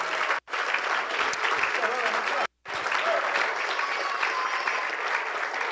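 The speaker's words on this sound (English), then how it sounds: "we'll give them a big round of applause" Sustained applause for young girls' district and sectional championship team at a city council meeting, broad and steady, cutting out briefly twice before resuming at full strength.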